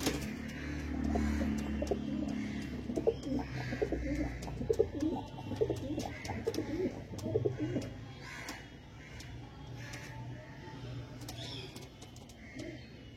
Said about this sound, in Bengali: তো চলো পায়রা দুটো ছেড়ে দেখিয়ে দিই